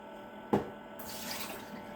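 Baking soda rinse water poured out into a kitchen sink, a soft splash followed by a steady running gush lasting about a second and a half, quiet and close, with no talking.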